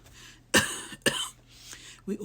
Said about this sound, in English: it looks like I'm going to go into one of my coughing sprees